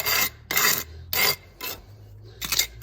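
A trowel scrapes excess grout from a patio surface in five short, rasping strokes about half a second each, close and fairly loud, gritty scraping separated by brief pauses, with no voices.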